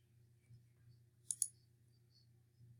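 A single quick double click of a computer mouse, close and crisp, in an otherwise quiet room with a faint low hum.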